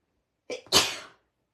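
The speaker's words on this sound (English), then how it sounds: "Excuse me. Oh dear, oh dear. Sneezes." A single sharp sneeze, a quick inhaled catch followed by an explosive burst, close and clear against silence.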